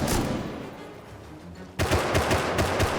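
Bursts of gunfire in the video game Rust during a raid, a dense volley at the start, a brief lull, then a sharp fresh burst of rapid shots continuing to the end.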